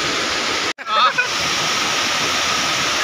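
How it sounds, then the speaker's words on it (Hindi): A steady, loud roar of heavily falling water from the large Sedam waterfall in Surguja, Chhattisgarh, India, briefly cut by a short gap, with a voice speaking over it. "अरे ये तो बहुत बड़ा वाटरफॉल है"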